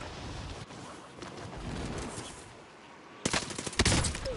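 In Call of Duty, a quick cluster of sharp gunshots cracks out near the end, close and loud, after several seconds of rushing, windy background noise.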